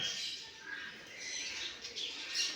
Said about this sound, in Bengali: ইন্দোনেশিয়ার জাতা চড়াই পাখি